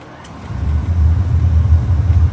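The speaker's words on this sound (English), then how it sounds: "Looks like my truck's starting." A truck engine cranking over and catching, a steady low rumble rising after a brief quiet start and running loud and close for a couple of seconds.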